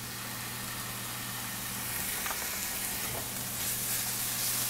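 Garlic shallot puree frying with mirepoix in a pan, a steady dense sizzle with faint scraping as it is stirred, close and continuous throughout.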